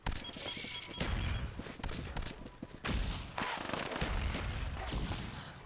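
Gunfire from the video game Call of Duty Black Ops Declassified: loud, dense bursts of shots come in rapid clusters with short gaps, filling the whole stretch.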